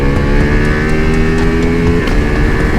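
A Ducati Multistrada V4S Pikes Peak adventure motorcycle's V4 engine drones loudly and steadily up close, a continuous mechanical roar with no talk over it.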